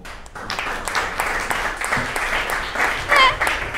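Audience applause at a live comedy show in Braga, a crowd clapping as a show-of-hands vote, dense and steady throughout with cheering mixed in and a brief whoop near the end.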